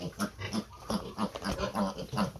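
Rapid, repeated high squeals from a farm piglet crying for its mother, about a dozen short cries in quick succession, close and fairly loud.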